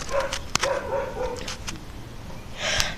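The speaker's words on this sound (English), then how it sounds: "That's the neighbor's dog." A neighboring dog barks in a few scattered, mid-distance yips and woofs over a steady background hiss, with one sharper, louder bark partway through.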